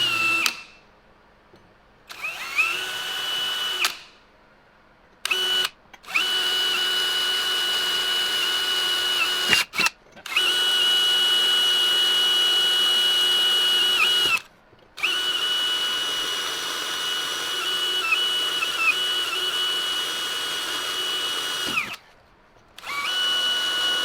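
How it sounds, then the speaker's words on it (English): A power drill whines at a steady pitch in several long bursts, pilot drilling metal tow brackets, stopping and restarting with brief silent gaps, close and loud, no speech. "Now a pilot drill."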